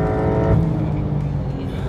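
A 2022 Porsche 911 GTS engine revs high to 7200 rpm with a strong harmonic drone that eases off into a rougher rumble, close and loud, on a race circuit.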